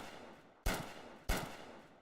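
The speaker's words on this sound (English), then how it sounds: "every single beat I use my gunshot tag" A gunshot tag in a hip-hop beat fires twice, about half a second apart. Each shot is a loud, sharp crack that fades into a short tail.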